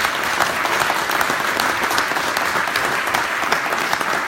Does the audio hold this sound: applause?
yes